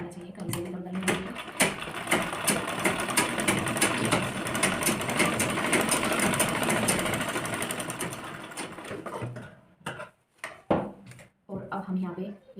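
A sewing machine runs steadily through a long stretch of stitching on a lehenga blouse, loud and continuous, then stops for a few short bursts and pauses near the end.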